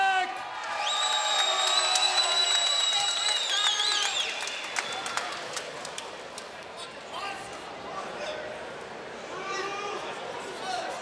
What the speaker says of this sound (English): Big response from the crowd for Bosiljevac.